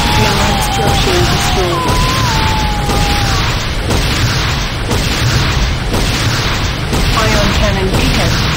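Repeated booming explosions from an airstrike in the video game Command & Conquer Renegade, heavy blasts recurring at a steady pace under a synthetic announcer voice and sweeping game tones.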